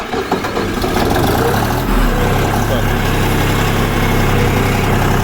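A Sintai TRKH 240 tractor engine rumbles steadily at idle close by, with a deep constant throb; someone says a brief word at the start.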